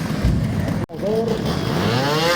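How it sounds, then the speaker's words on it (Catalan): Engine noise from a trial motorcycle on a circuit at a charity trial event fills the clip as a steady, fairly loud roar, cut by a brief dropout, with people talking over it. "Ir entrando ya también al circuito con la moto y con el peto."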